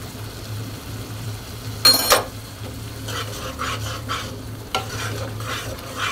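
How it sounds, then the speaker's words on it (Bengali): Spice paste for a prawn bhuna sizzles in a pan with a little water as it is stirred, a steady close fry broken by a loud scraping burst and intermittent spoon strokes, no voices. "একটু পরিমাণ পানি দিয়ে মশলাটাকে এভাবে কষিয়ে নিতে হবে"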